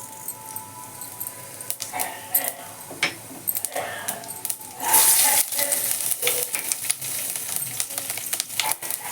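Cumin seeds sizzling in hot oil in a heated kadai, a steady close crackle with bursts of spattering and light stirring clinks, swelling louder midway.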